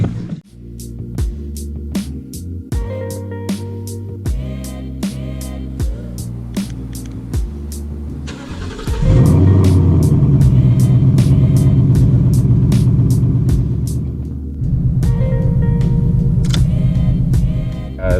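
A Kia car engine turns over with rhythmic clicking, then catches and settles into a loud, steady running rumble.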